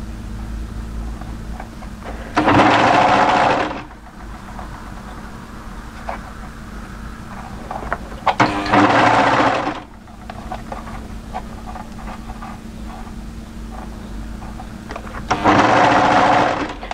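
Overlocker sews a cuff seam on a mid-length wrap cardigan in three short, loud bursts of high-speed whirring, separated by quieter pauses with faint handling sounds.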